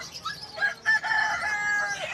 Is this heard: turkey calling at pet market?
yes